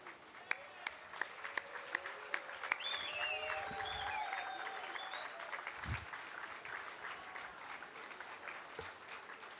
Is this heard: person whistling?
no